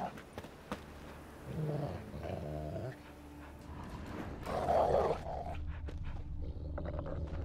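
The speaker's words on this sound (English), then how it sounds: "Just beware of the dogs." Dogs in the video game Witcher 3 growling and snarling in low rumbling bursts, with a sharper snarl midway, fairly close but at moderate level, with no one talking.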